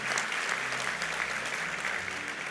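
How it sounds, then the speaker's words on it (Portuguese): Sustained audience applause fills a church during a sermon, a dense steady wash of clapping from a congregation with no talk over it. "Dê um aplauso a ele."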